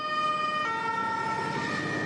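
Fire engine sirens wail continuously amid steady road traffic as emergency vehicles drive toward a Russian missile strike site in Kyiv, the siren tones holding and shifting pitch over a dense, loud background.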